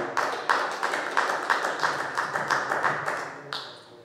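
A small group claps in a church service, producing a rhythmic, fairly close sequence of sharp, steady claps, about two per second, that slows and thins out near the end.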